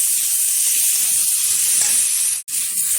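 Boiled mushrooms sautéed with potatoes and spices in a pan give off a steady, bright sizzle that holds evenly throughout, broken by one brief dropout near the end; no voices.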